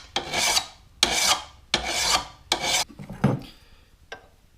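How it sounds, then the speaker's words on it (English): Hand file rasping across a lawnmower blade bolted to a piece of wood, in four long, loud strokes followed by a few shorter, fainter scrapes, with no talking. "I bolted the blade to this piece of wood to hold it in place so I could file it"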